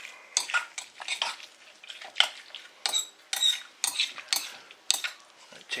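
A spoon slowly mixes tandoori paste with chutney in a pan, giving repeated close scraping clinks of metal on the bowl in an uneven rhythm with a faint sizzle underneath.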